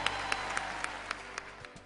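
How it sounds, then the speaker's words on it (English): An audience at a hospital fundraising auction in Miami breaks into applause: a short burst of many hands clapping, with a few sharper individual claps standing out. "Sir, our applause for all of you."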